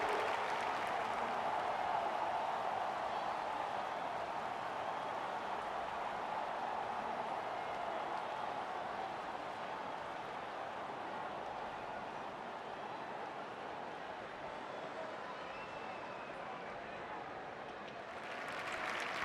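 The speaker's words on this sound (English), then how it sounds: "You can hear the crowd excitement." Cricket crowd at a club ground applauding and cheering steadily as a batsman walks out to the crease, a broad continuous wash of clapping that holds at an even level throughout.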